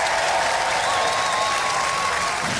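A television studio audience at a Robot Wars heat gives steady, full applause throughout, a continuous dense clapping with no talk over it.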